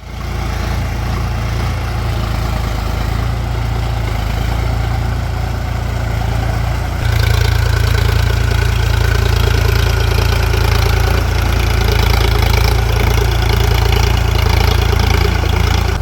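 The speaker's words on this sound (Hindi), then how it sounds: "पीछे ट्रैक्टर चल रहा है" A tractor engine drones loudly while ploughing a farm field during rice transplanting. The rumble is steady and close, then grows heavier and fuller partway through, continuing without pause and with no voices.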